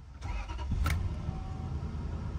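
A Lexus LS 400 engine cranks briefly and catches, then settles into a low, steady idle rumble up close.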